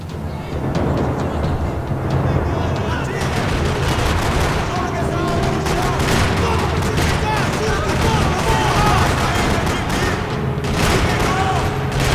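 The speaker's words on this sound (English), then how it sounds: "Another parking lot rattling with gunfire." Sustained gunfire rattles through a parking lot in the Max Payne video game, dense bursts and shots layered over a continuous loud mix with a faint voice underneath.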